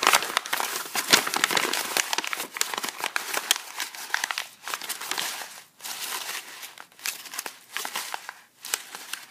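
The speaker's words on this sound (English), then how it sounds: "I'm going to crumple it." A sheet of paper crumpled by hand up close, a dense run of crinkling and crackling that rises and falls in bursts for several seconds, with brief pauses between squeezes.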